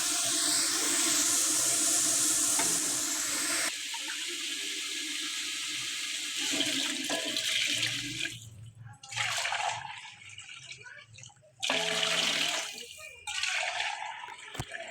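Water poured into a pot of fried peas and rice for a white matar pulao, about 1.5 kg of rice; a loud steady splashing stream runs for several seconds, then breaks into shorter intermittent pours with pauses.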